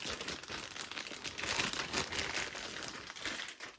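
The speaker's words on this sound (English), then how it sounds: "So let's go ahead and take it out of this plastic bag." Steady crinkling of a plastic bag wrapping a PlayStation VR controller being handled up close, a continuous rustle with small surges, no voices.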